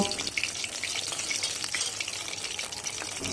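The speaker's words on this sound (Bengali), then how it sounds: "তারপরে ঝিঙের পিসটাকে নিয়ে বা টুকরোটাকে নিয়ে তেলের মধ্যে ছেড়ে দিলাম" Ridge gourd fritters (jhinge bora) frying in oil over medium-low heat, giving a steady bright crackling sizzle with fine popping throughout, close and continuous.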